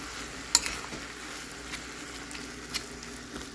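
Walnut taco meat simmers in a pan after about a cup of water is added, giving a continuous close sizzle with a few sharp clinks and stirring scrapes.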